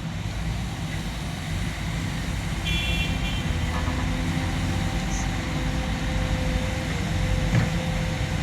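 Traffic on a road below, a continuous broad hum of passing cars heard from above, with a faint toot and distant engine drone steady throughout.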